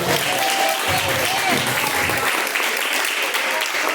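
Congregation clapping in praise during a Pentecostal church service, a dense continuous wash of many hands, loud and sustained, with faint voices and tones mixed underneath.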